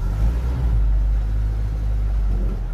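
A Gurgel car fitted with a Chevrolet Opala 2.2 engine runs steadily close by, a deep, constant low rumble with a slight rough pulse and no talking.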